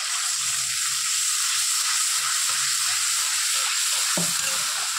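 Fried masala sizzles loudly and steadily in oil, a dense broad hiss throughout with a brief soft clatter near the end, as water goes into the spiced paste for a paneer omelette dish.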